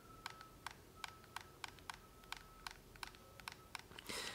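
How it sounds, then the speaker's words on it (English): A point-and-shoot film camera's autofocus lens gives a quick series of tiny, evenly spaced clicks, very quiet and close, ending in a soft rustle. "you can actually hear the lens focusing."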